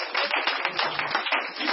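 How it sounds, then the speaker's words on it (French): Small French-speaking church gathering clapping together during a teaching session, a short run of close, bright hand claps with a slightly irregular rhythm. "on applaudit quand même"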